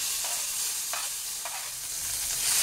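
Drumstick (sajna) paste with a dried red chilli fries in hot oil, a steady sizzle broken by a few soft stirring scrapes, close and alone with no voices.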